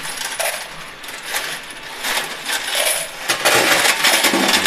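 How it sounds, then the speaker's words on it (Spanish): Coins clatter and jingle continuously as they drop and spill in a coin pusher arcade machine, a dense, loud metallic shower that swells toward the end. "Vamos a recoger las monedas"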